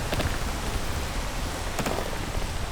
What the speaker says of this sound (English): even though it's raining, I'm going to try and climb